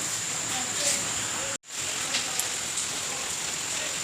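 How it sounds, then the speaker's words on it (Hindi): Heavy early-morning rain pours down steadily at a Gurudwara on the Hemkund Sahib route, a dense hiss that breaks off in a brief dropout and then resumes. A faint voice may sit under the rain. "बारिश शुरू हो गई है, मतलब कड़क बारिश हो रही है"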